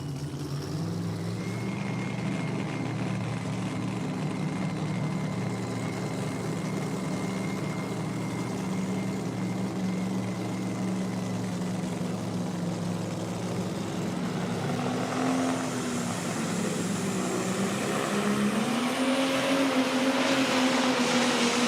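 A 10,000-pound Pro Stock pulling tractor at a Friday night pull in Benson, North Carolina roars steadily, its engine note climbing toward the end, heard from a distance as a continuous, heavy drone.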